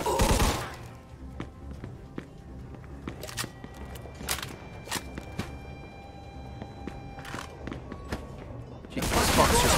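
Gunfire in the Mafia 2 video game: scattered sharp shots and thuds ring out through a steady low rumble, with louder bursts at the very start and end.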